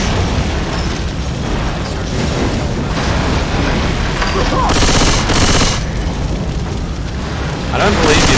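Rapid automatic gunfire and booming blasts in the zombie shooter game Left 4 Dead 2, loud and continuous, with heavy bursts and players talking over the din.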